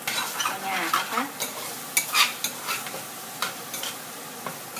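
Egg stir-fried with fermented shrimp in a pan: a utensil repeatedly scrapes and taps the pan over a soft continuous sizzle, in close, irregular strokes with no talking.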